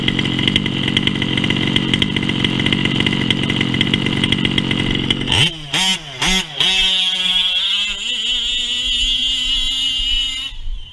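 A small high-pitched nitro engine in a 1/5-scale RC race car screams steadily, then blips sharply several times before settling into a lighter, fluttering idle.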